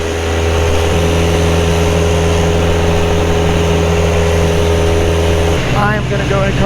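A 2010 Carbon Cub SS light aircraft engine drones loud and steady at full power during a climb after takeoff, its tone dropping once near the end into a slightly lower, wavering pitch.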